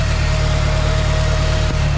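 A turbocharged Honda K24 engine in an EK hatch idles loud and close, with a steady, throbbing low rumble and a constant whine over it.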